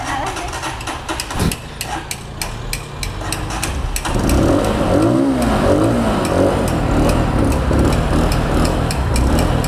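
A Motorhead Tekken 250 motorcycle engine on a test ride, running steadily under rushing wind before rising in pitch and growing louder as it revs up partway through, with a faint voice in the background.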